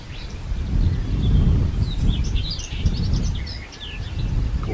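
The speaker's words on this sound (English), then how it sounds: "We've got birds chirping like crazy." Small birds, including a tit, chirping busily outdoors at a countryside spot, scattered bright tweets over a strong low rumble of wind.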